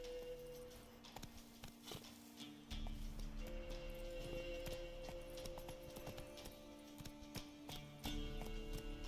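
Roach, the horse in The Witcher 3, trots along with a steady clip-clop of hoofbeats, close and continuous, over a low rumbling ambience and tonal background music that swells partway through.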